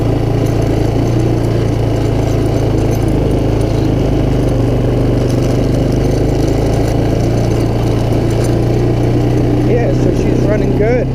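An ATV engine fitted with a non-original carburetor idles steadily and loud up close, holding an even rumble with no revving for the whole stretch.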